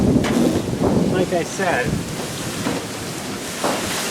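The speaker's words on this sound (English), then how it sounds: "it's a pretty windy day out here" Gusty wind buffeting the microphone outdoors on a windy day, rumbling in bursts under a person talking close by.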